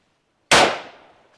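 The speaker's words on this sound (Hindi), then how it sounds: "सामने टारगेट सिंगल शॉट फायर।" A single rifle shot fired at a target during military field training, one sharp loud crack out of silence followed by a decaying echo tail lasting nearly a second.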